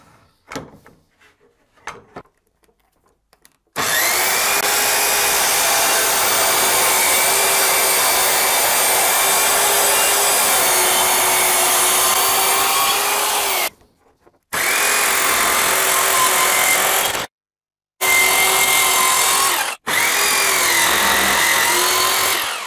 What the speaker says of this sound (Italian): vado di sega circolare e poi proseguo con il bancone